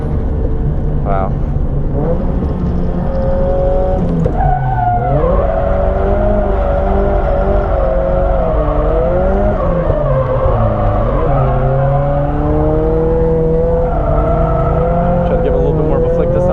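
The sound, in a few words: car driving, drifting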